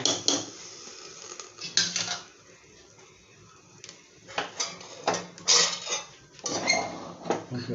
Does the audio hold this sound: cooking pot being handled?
yes